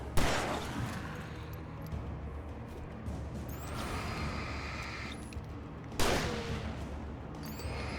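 Shotgun blasts in the video game Alan Wake, two sharp heavy reports several seconds apart over a low rumbling game soundscape with whooshing effects.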